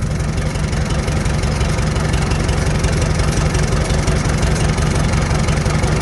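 The Farmall H tractor engine keeps idling after its carburetor idle adjustment, a steady, loud, nearby low chugging rumble with even rapid pulses throughout and no talking.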